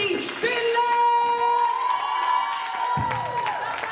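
A church congregation cheers and shouts at a youth ministry service, a loud crowd roar with whoops and a sustained tonal note through it, bursts of cheering rising and falling over about four seconds.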